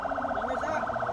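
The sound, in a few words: ambulance siren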